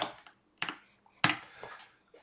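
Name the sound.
typing on a computer keyboard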